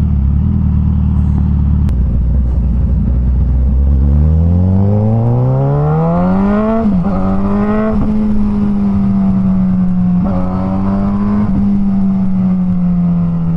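A Suzuki GSX-S1000 motorcycle with a remapped engine idles loudly up close, then revs up smoothly and holds a high, steady engine note with a few small throttle dips.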